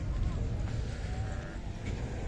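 Sheep bleat at a livestock market in Sokuluk district, with short wavering cries over a dense low crowd murmur and background talk.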